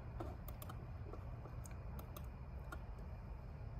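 A computer mouse clicks several times while navigating a smart camera's setup menu. The sharp, light clicks are scattered over a steady background hum, with no voices.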